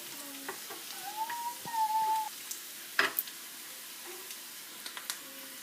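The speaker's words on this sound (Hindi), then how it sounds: "उसको आज तड़का लगा रही हूँ" Hot oil sizzles and crackles steadily, with a few sharp pops and spatters as tempering spices fry until golden brown.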